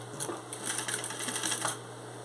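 A sewing machine stitches a short run in reverse with a quick, close, rapid mechanical clatter lasting about two seconds over a low steady motor hum.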